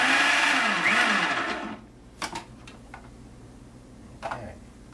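Salt, yeast and liquid for pretzel dough are mixed with a loud, whirring motorised churn that lasts nearly two seconds and then cuts off, followed by a few sharp ticks and knocks in near-quiet.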